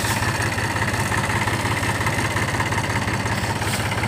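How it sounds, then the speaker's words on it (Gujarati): A parked tractor's engine idles steadily and close by, a continuous low, throbbing rumble with even vibration and no pauses or voices. "આપણે ટ્રેક્ટર અહીંયા ઊભો રાખી દીધો છે"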